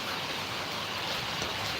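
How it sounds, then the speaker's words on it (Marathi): Heavy monsoon rain in Karnataka pours steadily, a dense unbroken hiss of drops on surfaces, fairly close and constant without pause. "मुसळधार पाऊस चालू आहे"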